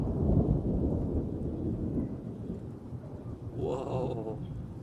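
Loud thunder rumbles deep and heavy through a rainy storm, rolling on for several seconds close by with steady rain beneath it.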